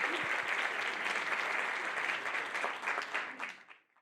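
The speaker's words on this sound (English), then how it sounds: "Let's give a round of applause for families and friends who are here" Round of applause at a Doctor of Physical Therapy white coat ceremony, a sustained wash of crowd clapping that holds steady, then thins and fades out to silence near the end.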